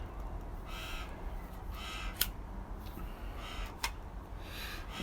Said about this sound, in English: I got magpies demanding biscuits.